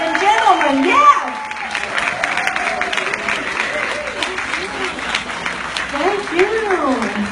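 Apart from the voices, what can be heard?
audience applause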